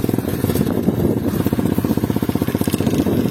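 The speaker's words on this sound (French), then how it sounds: "Petit coup d'accélérateur et tu relâches." An Apollo 125 RFZ motorcycle engine running close by with a rapid, pulsing mechanical chatter that rises briefly as the throttle is blipped and then settles, loud and alone.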